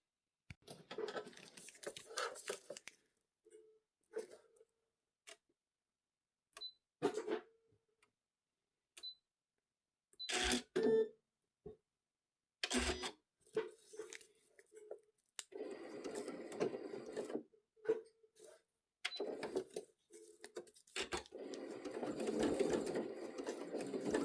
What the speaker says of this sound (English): I'm now going to use a darning foot and go around these two, and you'll find the stitch wanders, meanders